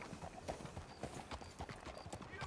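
Horse hooves clip-clop in a steady walking rhythm in the RedM roleplay game, a close, moderately loud series of clops in a 1920 town setting, heard alone without talk.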